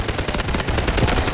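Rapid automatic gunfire from the mobile shooter game Delta Force rattles loudly and continuously, dense bursts of closely spaced shots with no voices over them.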